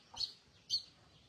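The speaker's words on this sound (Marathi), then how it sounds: "मस्तपैकी चिमण्यांचा कालवा आहे" Two short, high sparrow chirps ring out about half a second apart against a quiet background.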